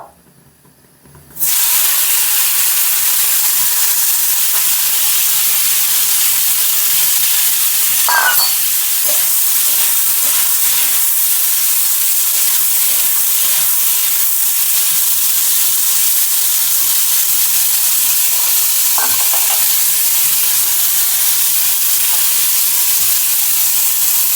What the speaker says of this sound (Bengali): তেল গরম হয়ে গেছে এবার কুঁদরিগুলো দিয়ে দেবো